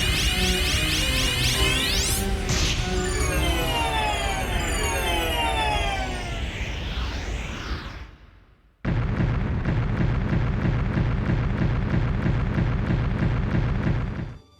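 Explosions from the final boss cutscene of the video game Azure Dreams, where the villain Beldo is destroyed, come as a loud, dense wash of sweeping synthetic effects. A brief drop follows, then a steady, rhythmic pulsing barrage resumes.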